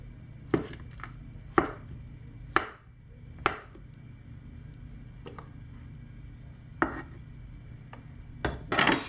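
A large knife chops through frozen octopus on a cutting board, with about eight sharp, separate thuds at uneven intervals, close and clear against a quiet kitchen hum.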